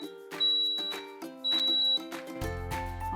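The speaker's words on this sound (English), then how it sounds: "Oh, that's my timer, by the way." A kitchen timer sounds while Filipino food is being plated, giving repeated high electronic tones in bursts with short gaps, followed by a low rumbling noise near the end.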